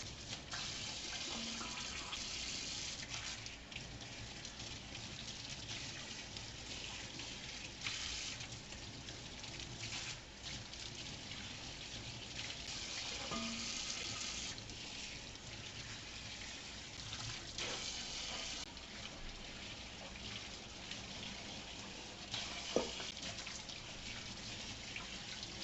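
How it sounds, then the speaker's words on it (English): Fresh leaves being rinsed one by one, each side held under a running tap, for bug checking: a steady close wash of water with splashing shifts as the leaves move through the stream, continuing alone without talk. "We're going to take each individual leaf and we're going to rinse each side under running water"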